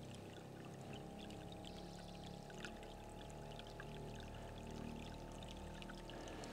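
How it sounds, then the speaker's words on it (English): Steady rushing and pouring of water from a solar-powered well pump outlet, continuous and even, with faint clicks and a low mechanical hum underneath. "We're pumping water."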